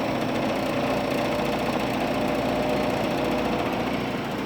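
Motor of a 1957 Fedders Weather Wheel air conditioner runs in a steady, loud electrical hum and whir with a faint rapid rattle, unbroken and close throughout.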